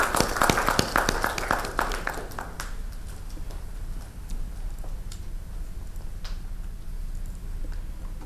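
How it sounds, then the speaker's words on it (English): Audience clapping during a design software session, a burst of scattered applause that thins out into a few sporadic claps, with room noise behind. "we have applause for this functionality"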